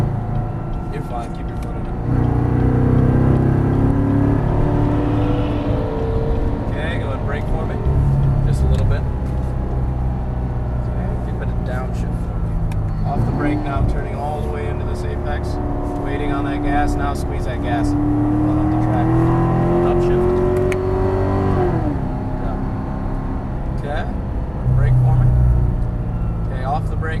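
A C7 Corvette Stingray accelerating hard on a race track, its engine droning loudly and rising in pitch through gear changes, with an instructor talking over it throughout.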